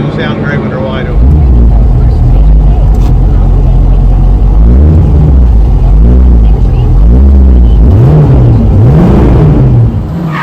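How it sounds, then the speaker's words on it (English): A 1976 Pontiac Trans Am with a 455 engine and an unfiltered Quadrajet carburetor roars loudly at wide open throttle in several surging revs, deep and sustained, close by, with someone speaking over it. "if you've never heard a Quadrajet unfiltered, wide open, you've never heard anything"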